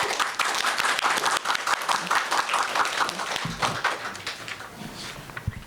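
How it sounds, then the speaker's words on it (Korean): Dense clapping from an audience at an academic lecture fills the room, steady and close, tapering slightly near the end. "박수로 맞이하도록 하겠습니다."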